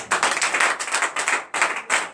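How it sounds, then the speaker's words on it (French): A congregation at a Tuesday morning prayer service in Comè, Benin applauds in bursts of rhythmic clapping, fairly close and loud, with no talking. "donnez l'acclamation à l'Éternel"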